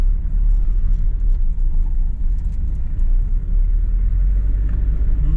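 A car drives steadily along Komsomolskaya Street in a city, its engine and tyre rumble loud and close, a continuous low drone with no talk.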